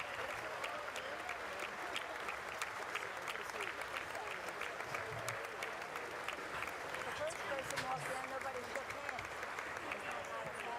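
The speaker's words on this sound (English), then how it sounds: "We're listening in as we see the President's Cabinet entering to applause." Sustained applause fills a formal chamber as the President's Cabinet enters, a steady dense wash of many hands clapping with a murmuring crowd beneath it throughout.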